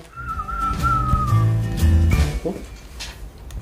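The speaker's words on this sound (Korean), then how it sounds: "큰 건 하나 이루었는지 절로 휘파람이 나오는" A real estate agent whistles cheerfully: a clear, wavering tune carried for over a second, close by, with low background sounds and muffled movement underneath.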